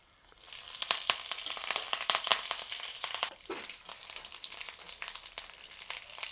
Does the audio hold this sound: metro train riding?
no